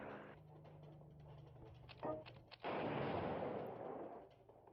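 Aircraft bombing in the strategy game World Conqueror 3: a low rumble and a couple of sharp thuds lead into a loud, sustained blast of explosions that slowly fades, with no talk over it.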